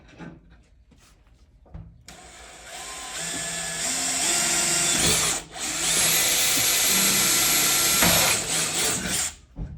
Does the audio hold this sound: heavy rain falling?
no